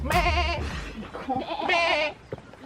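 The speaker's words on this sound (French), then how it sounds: "écoute le bruit des chèvres" Goats bleat several times nearby in a Nepalese village, wavering nasal cries in short bursts separated by brief pauses.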